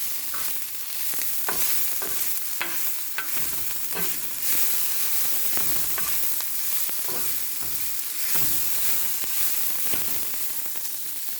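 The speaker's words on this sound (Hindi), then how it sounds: "थोड़ा सा कुक करूंगी ताकि जिंजर गार्लिक" Ginger and garlic frying on a tawa for crispy okra and potatoes, with steady hissing sizzle broken by repeated scrapes and clinks of a stirring spatula, close and continuous, no talking.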